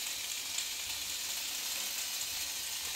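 Twelve thin slices of bacon frying in a pan, giving an even, continuous close hiss of sizzling fat with no other sounds.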